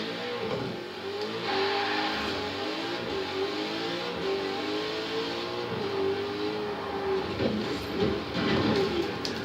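A car engine in the video game Forza Horizon 4 revs and drones continuously, its pitch rising and falling in waves over a low rumble, with no talking.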